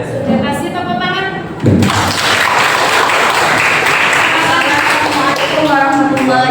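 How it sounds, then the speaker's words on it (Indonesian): Applause from an audience of teacher-training participants after a group presentation, a burst of clapping that starts abruptly after a short stretch of talking and continues steadily, with a voice returning at the end. "Oke, sudah kasih tepuk tangan."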